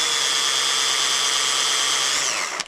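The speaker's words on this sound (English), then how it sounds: "And then we drill it down to the brass tube inside." A drill on a lathe bores through a mechanical pencil blank down to the brass tube inside, a loud, continuous high whine with a grinding edge that stops abruptly near the end.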